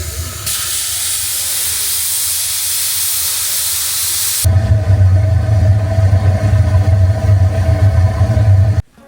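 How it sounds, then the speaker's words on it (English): A loud, steady hiss of escaping steam from a steam locomotive fills the first half, then gives way to the deep rumbling chug of the engine nearby, at a steam railroad in California's Central Valley. "watching the sights and sounds of a steam railroad here in the Central Valley"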